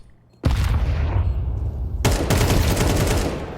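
Sustained SMG gunfire in the Counter-Strike 2 game breaks out abruptly and loudly, a dense fusillade of rapid shots that briefly drops off and then resumes at full intensity.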